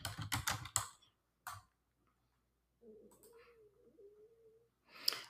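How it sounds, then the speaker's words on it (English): Bursts of quick key clatter on a computer keyboard, a rapid run of taps followed by a few isolated keystrokes, with a faint hum and a soft voice-like murmur in the quiet gaps. "I'm going to type in Google Calendar"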